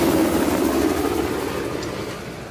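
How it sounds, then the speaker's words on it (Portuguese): Helicopter in Uncharted: The Lost Legacy, a loud steady rotor drone with a low throbbing chop that fades slightly as it passes, no voices over it. "Como é que o Azave arrumou um helicóptero?"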